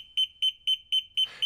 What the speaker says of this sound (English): the push to activate alarm when lit LED and sounder will pulse 4 times per second